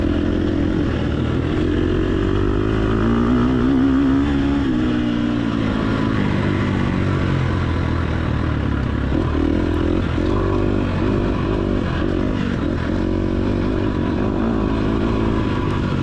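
A race car engine in the TORCS racing game holds a high, droning whine, then the throttle eases off and the pitch sags before settling into a lower, wavering hum. The sound is steady and close, with no voices.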